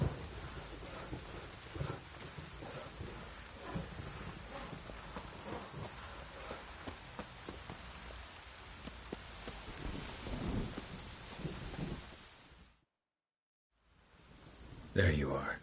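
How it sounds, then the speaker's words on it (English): Steady rain with rumbles of thunder across a Witcher 3 scene, a broad hiss that runs continuously, drops out briefly near the end, then returns with a louder burst. "Oh, it's drizzling."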